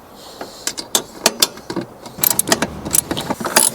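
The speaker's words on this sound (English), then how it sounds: "Good ratchet work" A socket ratchet loosens bolts inside a campervan. It gives bursts of quick, sharp clicking with brief pauses between, close and fairly loud, with no voices.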